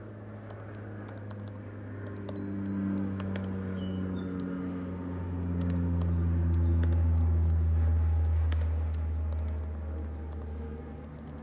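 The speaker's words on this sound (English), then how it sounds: "I can type whatever I want to type into it." Keys clatter on a computer keyboard as a title is entered into a text box for ski movie editing. The taps are quick and irregular, close and moderately quiet, over a steady low electrical hum with no talking.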